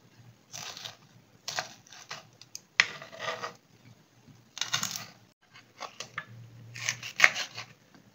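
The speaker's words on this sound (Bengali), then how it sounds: "আমি এই দুটো বেল পেপার কেটে নিচ্ছি চৌকো চৌকো করে, বেশি ছোট করব না।" Two bell peppers being cut into squares on a board, short bursts of knife strokes with small gaps between, close and fairly quiet, no talking.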